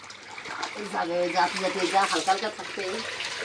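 Dyed clothes being hand-washed in water: splashing and sloshing with a few watery gurgles, under nearby talk that runs through most of the stretch.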